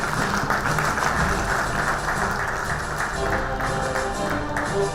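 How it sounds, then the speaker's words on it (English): Audience at a startup and investor event giving a round of applause, a dense steady wash of clapping that holds evenly throughout at moderate loudness. "Can I have a round of applause for him?"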